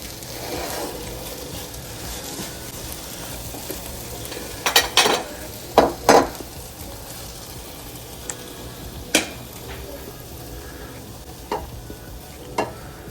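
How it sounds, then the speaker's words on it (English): Bean sprouts, king oyster mushroom, carrots and onions being stir-fried in a pan, with a low steady sizzle, a few louder scraping stirs and clatters, and no talking. "It's bean sprouts stir fried with the king oyster mushroom, carrots, onions."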